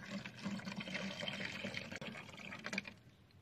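Water poured into a pot holding a Hong Long caladium plant, a steady splashing trickle running close and fairly loud for the whole stretch with a brief break near the end.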